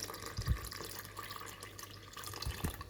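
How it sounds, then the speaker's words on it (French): About 400 ml of lukewarm water is poured into a mixer bowl holding flour for dough, a soft, close splashing and trickle with a few brief gurgles. It is quiet and heard without talk. "J'ai préparé 400 ml d'eau tiède que je vais venir déposer."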